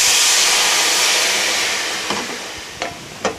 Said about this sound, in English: add 1/2 cup of red wine, and it will reduce down in the skillet